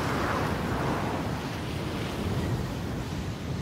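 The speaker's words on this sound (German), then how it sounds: "Jetzt haben wir hier mal Windstärke 6 bis 7" Strong Icelandic wind of force 6 to 7 roars steadily across the microphone, a dense, unbroken rush with heavy low buffeting and no letup.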